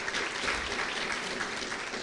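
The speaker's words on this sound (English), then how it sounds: "People stand and applaud." At an award luncheon, people stand and applaud in a brief, even burst of crowd clapping that holds steady throughout.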